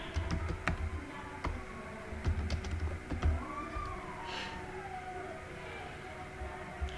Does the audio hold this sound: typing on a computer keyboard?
yes